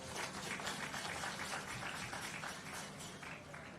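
Audience applause at the groundbreaking ceremony for the Boundbrook Urban Centre, steady dense clapping from a crowd sustained throughout.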